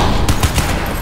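Automatic gunfire from the game Crysis 2 Remastered, fought in a subway, comes as a loud, close burst of rapid shots lasting about a second.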